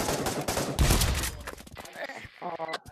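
AK rifle fire in a video game, a loud rapid burst of close shots in the first second that thins into scattered cracks, with people talking excitedly over it.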